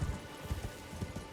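A horse's hooves clip-clop in a steady, quick gallop rhythm while riding in the video game Elden Ring, soft and muffled under a faint ambient bed.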